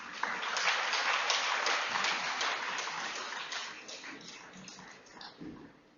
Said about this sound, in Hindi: पूरी तालियों की गड़गड़ाहट के साथ राजीव दीक्षित साहब को मंच